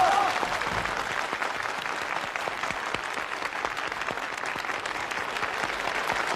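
Sustained, dense applause from a large audience welcoming Jiang Zemin and Li Peng to speak, steady and loud throughout with no talk over it.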